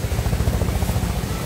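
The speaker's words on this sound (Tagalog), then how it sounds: "Uy, helicopter ba? Helicopter na." A helicopter passes overhead, its steady low rotor thump throbbing loud and continuous throughout, with no talk over it.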